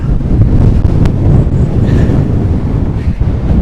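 Strong storm wind on a golf course roars and buffets the microphone continuously, loud and close, with rumbling gusts and no talking.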